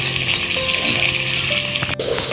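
Potatoes and carrot fry in oil with salt and turmeric in a pan, producing a loud, continuous sizzle with a faint tonal whine underneath and a brief dip near the end.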